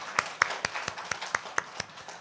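A church congregation claps together in a steady run of sharp, evenly spaced claps, moderately loud and with no talking over it.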